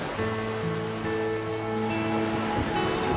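Sea waves wash steadily in a continuous broadband rush, with a faint tonal hum running underneath and no voices.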